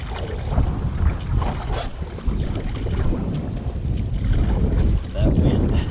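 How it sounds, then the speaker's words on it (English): Strong wind buffets the microphone in a canoe on a lake, a loud, continuous rumbling roar with gusty swells and faint water sounds, and no speech. "Wind's blowing us."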